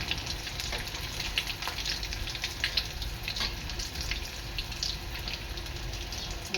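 Potato vadas for fasting deep-frying in hot oil: a steady, dense bubbling sizzle with frequent crackles and small pops, close and continuous throughout.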